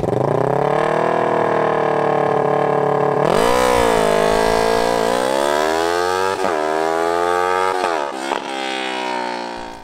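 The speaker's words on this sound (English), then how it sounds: "I'll put a clip of what it sounded like right after this." A 2018 Yamaha R6 motorcycle with its exhaust being revved, loud and close, the engine note rising and falling through several sharp throttle blips over a steady idle, with no talking.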